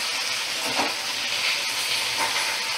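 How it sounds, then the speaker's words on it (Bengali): Cut okra pieces frying in a pan, giving off a continuous, even hiss of sizzling oil with soft steam at moderate volume. "এবার এটা একটু ভাজা ভাজা হবে"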